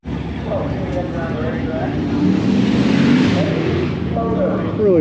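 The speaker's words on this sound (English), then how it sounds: "A Gremlin. Serious twin turbo LS." A twin-turbo LS engine in a Gremlin rumbles and revs close by at an LS Fest car event, a loud continuous low growl that swells slightly midway, with people talking over it.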